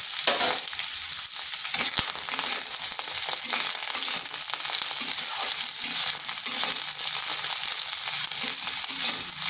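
Okra frying in hot oil crackles in a dense, steady sizzle while it is stirred, with scraping and rustling from the spatula, close and loud, no voices.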